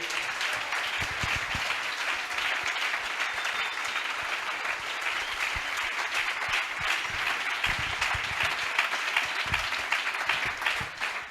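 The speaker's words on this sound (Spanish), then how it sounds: "Un aplauso para Javi." An audience at a Sevilla-themed talk applauds Javi Navarro, a dense, sustained round of clapping that carries on strongly for the whole stretch, with a few louder individual claps standing out.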